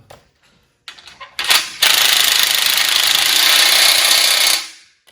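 A power tool drives fasteners while assembling an 8-foot stair kit frame, starting in short bursts, then hammering continuously and loudly for about three seconds before winding down and stopping.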